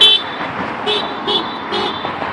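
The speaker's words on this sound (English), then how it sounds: "People are honking" Car horns honk on a street after a Raptors win, with three or four short toots spaced about half a second apart over a steady wash of traffic noise.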